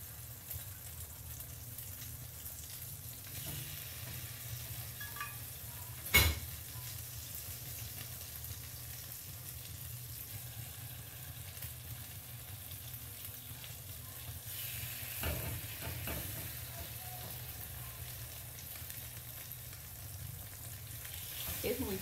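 Bread soaked in a milk mixture fries in a pan for torrejas, giving a steady soft sizzle with occasional clinks and handling noises. The sound is fairly quiet throughout.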